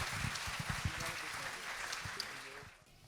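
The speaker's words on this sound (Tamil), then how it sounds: "சௌந்தர்யாவுக்கு எங்கள் பாராட்டுக்கள் கரகோஷமாக ஒலிக்கட்டும்" Applause from a studio audience on a Tamil singing show, honoring a singer after her song, a thick patter of clapping under a low background hum that fades toward the end.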